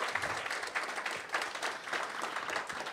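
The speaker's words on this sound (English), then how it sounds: "Big round of applause" Audience applause at the Petersen Automotive Museum for driver Rhys Millen, a steady wash of clapping that sounds fairly distant and soft, running throughout without any talk.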